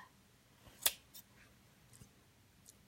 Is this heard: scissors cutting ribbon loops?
yes